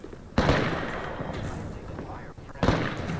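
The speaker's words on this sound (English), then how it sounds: "Somebody's shooting me." Gunfire in an online shooter game, loud bursts of shots rolling into one another over a steady roar of game noise, with sharp onsets near the start and again near the end.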